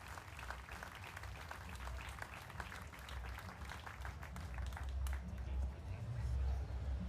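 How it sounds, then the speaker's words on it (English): An audience at an FFA state fair event claps for the show help, giving steady, moderately faint applause with a crowd murmur underneath that swells slightly toward the end. "So let's give a round of applause for all of our show help."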